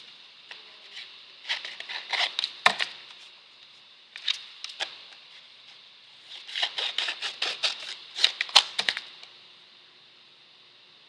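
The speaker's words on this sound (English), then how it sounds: "Scissors." Scissors snipping paper during a papercrafting session, with a rapid series of crisp, close snips in several bursts separated by short pauses.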